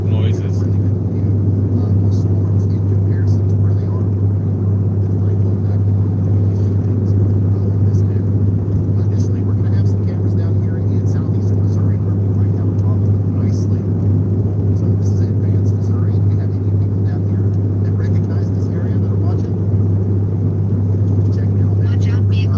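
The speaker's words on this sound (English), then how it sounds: "all sorts of cool power stroke noises" A Ford 7.3 Power Stroke diesel pickup truck cruising on the highway in windy weather, a steady, loud low drone with constant road and wind rumble and no break.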